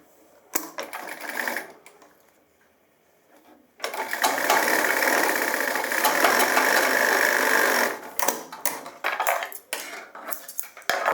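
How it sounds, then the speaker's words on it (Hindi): Sewing machine stitching trouser lining for gents' pants, a few short rattling bursts, then a sustained fast whirring run of about four seconds, followed by brief stop-start stitching, close and loud. "ये हम यहाँ से एक सिलाई लगा लेंगे आधे पैर की"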